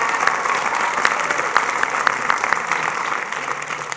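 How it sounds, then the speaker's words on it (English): A crowd at a high school graduation ceremony applauds, many hands clapping in a dense continuous patter at moderate loudness, with a few sharper nearby claps standing out. "let's give a big round of applause for Danae"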